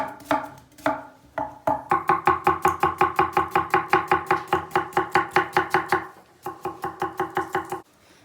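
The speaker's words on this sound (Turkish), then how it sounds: "Pirinçlerimiz ıslanırken hemen orta boy bir buçuk bir soğan doğrayacağız." Rapid, steady knife chops on a cutting board as an onion is diced, close and loud, a quick even rhythm of strikes with brief pauses near the start and end.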